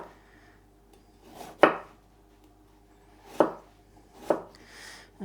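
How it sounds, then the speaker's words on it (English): A knife chops vegetables into little cubes on a cutting board, three sharp separate thuds with gaps between them, close and clear, no one talking. "And then turn 90 degrees and cut across."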